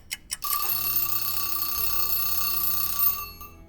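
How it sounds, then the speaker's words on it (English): A kitchen timer goes off, ringing loud and continuous for roughly three seconds with a steady high-pitched tone, preceded by a couple of brief clicks and fading out at the end. "We didn't have to wait very long for that timer to go off"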